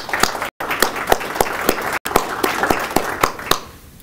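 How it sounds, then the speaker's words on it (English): Steady applause from a crowd at a Veterans Day ceremony, many hands clapping with sharp distinct claps, fading out at the end. "let's give them a round of applause as well."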